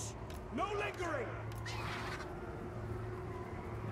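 A bird caws twice in the Warhammer 2: Total War fantasy strategy game, harsh calls close by over a low battlefield hum, and a voice talks during them.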